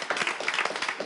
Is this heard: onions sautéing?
no